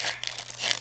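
A Disney Lorcana foil card pack is torn open in a short crinkling rip, close and crisp, lasting under a second.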